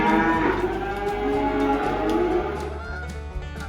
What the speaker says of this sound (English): be prepared to be serenaded by cattle all night long if you stay here on a Friday